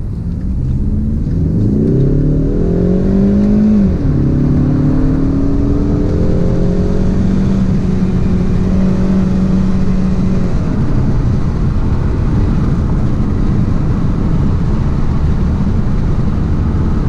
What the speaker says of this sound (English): I figured for number five to show how fun it is to drive, I'll just go for a quick spin.